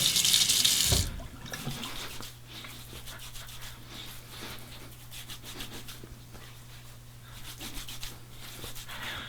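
Steady hot water running from a tap, with a loud rushing burst at the start, then a continuous stream with light rubbing and splashing.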